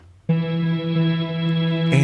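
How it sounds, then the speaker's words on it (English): Dark Dream synth patch from the Elysion 2 library plays a sustained, harmonically rich tone that enters sharply, holds steady with a slight wavering shimmer, then shifts into a brighter, busier note near the end; loud and alone, with no voices. "That dark dream sound you can hear and you can see here at the beginning."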